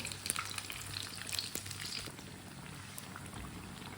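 A homemade summer breakfast fries in a pan while being flipped, making a quiet, even sizzle with faint bubbling and a few light scraping ticks.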